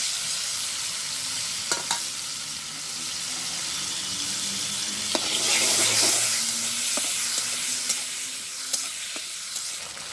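A ground spice paste of pepper, cumin, onion, garlic and ginger is stirred and fried in a pan, giving a steady close sizzle with scraping strokes of the spoon and a louder burst of frying midway.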